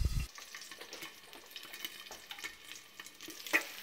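Bacon fries in a pan, a soft continuous sizzle with light crackles and a few faint clinks, heard close and quiet without talk.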